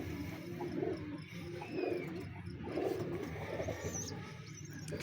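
Soft, low pigeon cooing repeats in gentle rolling phrases against a steady background hum, with a few faint chirps higher up.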